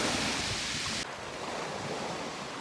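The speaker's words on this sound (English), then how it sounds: "I promised my podcast listeners the sound of the sea, and here it is." Sea waves washing onto the shore at the end of a long walk, a broad steady hiss of surf mixed with wind buffeting the microphone, dropping slightly in brightness partway through.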